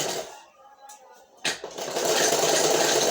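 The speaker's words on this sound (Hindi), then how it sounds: "अब हम इसमें यहाँ से ऐसे फोल्ड करके इसमें एक पतली सी सिलाई लगाएंगे।" A sewing machine stitches a folded kurti collar, an opening run of stitching, a pause, then a steady close mechanical whir to the end.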